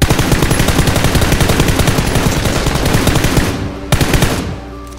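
Rapid automatic gunfire in a video game: dense, loud bursts in quick succession for several seconds, then a single sharp shot before the firing tails off.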